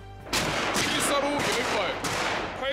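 Live-fire rifle shooting by trainees at a military training range, a sustained volley of overlapping gunshots with sharp individual cracks standing out over constant background noise.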